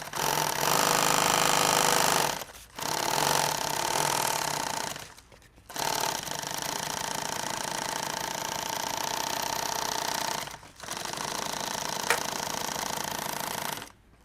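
A double needle sewing machine stitches a second line of edge tape, running in loud, steady bursts. It stops briefly three times, then runs on.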